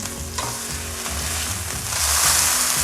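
Pot roast meat browning in a pan gives a loud, close, continuous sizzle with scraping stir strokes that swell toward the end, and nobody speaks.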